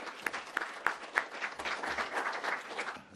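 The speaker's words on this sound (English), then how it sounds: "let's join us in a round of applause for our panelists" Applause for panelists at an academic symposium on EU accession and Southeast Europe: a few sharp early claps grow into a steady round of clapping from a modest audience, fairly quiet and heard alone.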